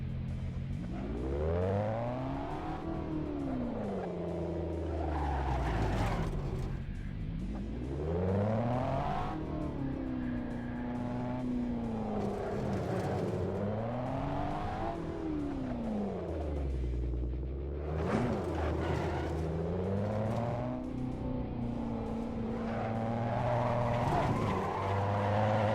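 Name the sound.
LaFerrari car driving in a Goodwood Festival of Speed VR game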